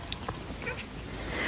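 A pet cat gives a few faint, short meows close by over a quiet room background, with no talking.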